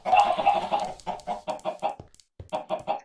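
Minecraft chickens cluck in quick repeated bursts, close and fairly loud, with a brief pause before a final run of clucks.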